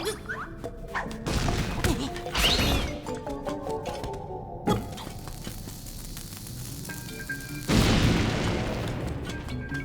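Bombs explode in The Legend of Zelda: Link's Awakening, several punchy game booms and crashes over a busy in-game soundtrack, with a bigger blast near the end and fainter thuds in between.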